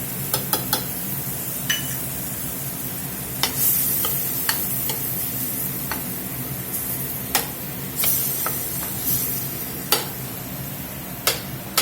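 Tomatoes and garlic cloves frying in a pan for carne guisada, a continuous bright sizzle with scattered sharp ticks and clinks of a utensil against the pan, close and alone without talk.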